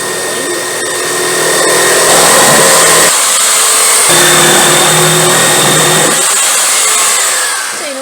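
A jigsaw cuts wood for a shelf with a loud, close, continuous buzzing drone that shifts in pitch and intensity in several stretches as the blade works through the board.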